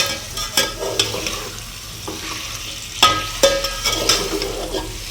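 Close-up scraping and clinking of a spoon stirring food in a metal pot, several uneven strokes over a soft background sizzle.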